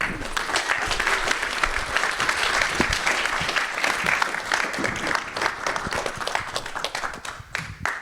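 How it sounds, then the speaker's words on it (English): Audience applause at the One Way Summit 2025 opening as a host is welcomed on stage: dense, sustained clapping from a large crowd that stays loud throughout and thins slightly near the end. "Please give a round of applause for Amanda."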